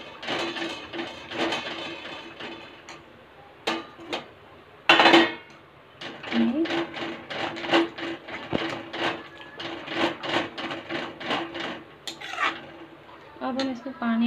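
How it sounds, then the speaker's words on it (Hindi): Spoon quickly stirring whisked yogurt into onion and gram flour sabzi in a pan, a rapid irregular series of close metallic scrapes and clinks with short pauses, and a voice talking intermittently between strokes. "हमने दही ऐड करेंगे और इसको जल्दी जल्दी चलाएंगे ताकि दही ना फटे।"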